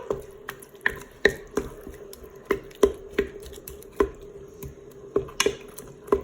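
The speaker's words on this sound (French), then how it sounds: "ma grande cuillère à soupe de concentré de tomate. Et je mélange." A spoon scrapes and knocks steadily around a Cookeo pot as tomato paste is stirred into spaghetti bolognese sauce, making a quick, irregular run of close, sharp clacks.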